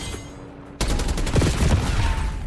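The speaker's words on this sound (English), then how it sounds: "Finally start shooting the person." Rapid bursts of video game gunfire as enemies are shot, a loud dense fusillade of overlapping shots that starts abruptly after a quieter moment.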